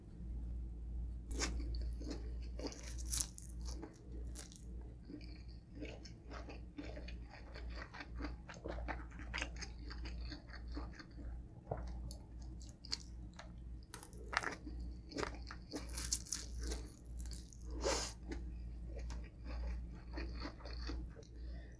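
Crispy fried shrimp is bitten and chewed up close, with repeated crunching, moist squishy mastication and occasional sharper crunches over a long, steady stretch.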